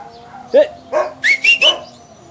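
A dog in an animated children's story gives a short series of yelping barks and whimpers, five quick close calls rising in pitch, with no talk over them.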